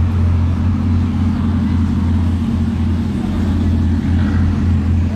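Two Bugatti Chiron supercars, one a Super Sport, pull away at Place du Casino in Monaco with a loud, steady low engine rumble that holds evenly and close throughout.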